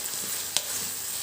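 Curd is stirred into chicken masala for a chicken dum biryani in a pan: a soft, close sizzle with one quick scrape of the spoon partway through.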